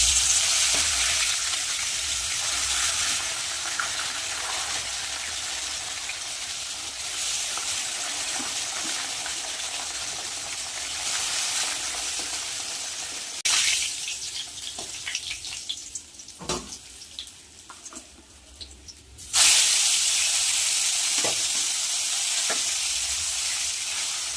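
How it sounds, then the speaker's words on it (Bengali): Fish frying one after another in hot mustard oil in a wok (kadai), a loud continuous sizzle close by, with stirring, a brief quieter dip, then the full crackling sizzle returning. "তেল গরম হয়ে গেছে একে একে মাছগুলো ভেজে নেবো"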